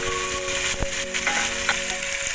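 Potatoes hit hot fish oil over a cumin and dried chilli tempering and sizzle loudly and steadily, with a few stirring scrapes and clicks and no talk.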